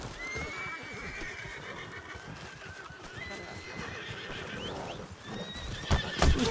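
A horse in a Western video game whinnies repeatedly over steady hoof clip-clops, with a louder thump near the end.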